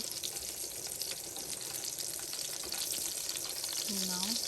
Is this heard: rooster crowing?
no